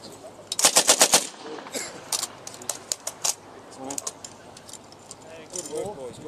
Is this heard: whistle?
no